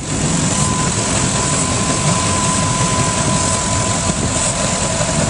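A Supreme V226 boat engine drones steadily, a loud constant low rumble with a faint whine, running without change throughout.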